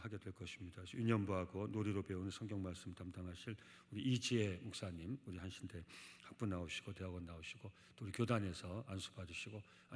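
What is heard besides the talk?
No everyday noises stand out.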